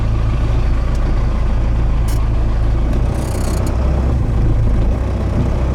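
A Ford F150 truck fitted with a rebuilt 4BT Cummins diesel engine drives along, giving a steady, loud low-pitched rumble with a constant engine drone and a few brief higher clicks.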